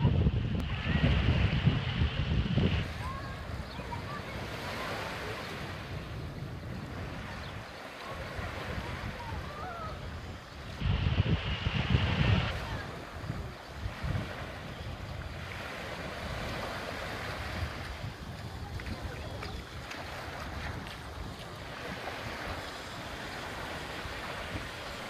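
Waves and wind at Tecolote Beach in Baja California Sur, near La Paz, make a steady wash of surf with buffeting wind, gusting louder near the start and again around the middle.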